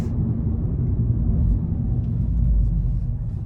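An 8th-generation Volkswagen Golf GTI pulls hard under acceleration, its engine a steady, heavy low rumble from inside the cabin, swelling slightly near the end with no talk over it.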